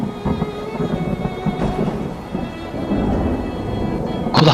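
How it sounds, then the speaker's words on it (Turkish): Low rumbling thunder rolls continuously over steady heavy rain, with a louder crack of thunder near the end, loud and enveloping with no voices. "yağmur yağıyor sanki gök gürültüsüyle."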